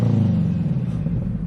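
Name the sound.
FRS sports car engine and exhaust running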